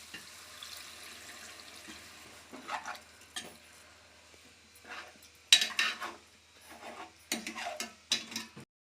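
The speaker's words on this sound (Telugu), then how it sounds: "కొంచెం నీళ్ళు పోసుకుందామండి" Water poured into simmering fish curry in a pan, soft scattered splashes and stirring clinks with faint bubbling between them, quiet and intermittent.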